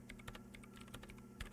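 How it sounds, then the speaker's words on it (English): Quick, light keystrokes on a computer keyboard in the video game Disco Elysium, tapping out numbers in short irregular bursts, faint and close with no voices. "She's on the keyboard now, typing in some numbers that only she understands."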